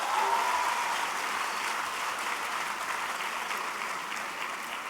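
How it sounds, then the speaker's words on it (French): A graduation ceremony crowd at a French lycée applauds departing staff, a broad, sustained wash of many hands clapping at even loudness that eases slightly toward the end, with a faint tone briefly at the start. "Je pense qu'on peut les applaudir."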